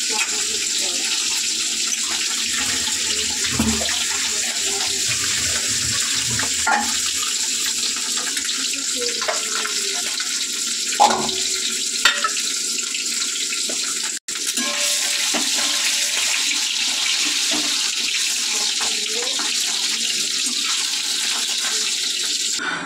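Hot water being poured off freshly cooked rice, a steady close splashing gush running throughout with occasional clatter.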